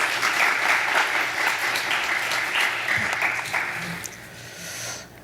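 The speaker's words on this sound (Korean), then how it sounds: "박수로 환영해 주시기 바랍니다." A church congregation at a Wednesday service applauds to welcome a Methodist missionary, a sustained dense wash of clapping from many hands that gradually thins and fades out near the end.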